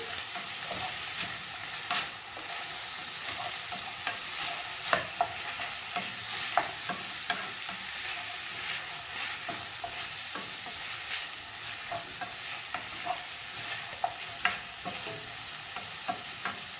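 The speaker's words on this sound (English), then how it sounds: "Continue frying until the onions are dry." Onions sizzle steadily in a pan for a beef stew while a utensil scrapes and stirs in irregular taps and clicks, with no talking.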